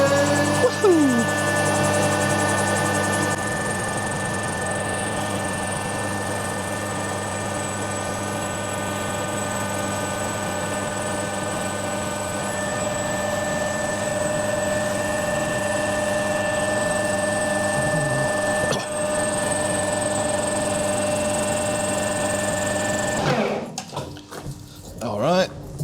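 A metal lathe cuts a steel barbell with a little coolant applied, a steady droning whine with sustained tonal hums running evenly and close, then cutting off abruptly near the end into clatter and quieter handling.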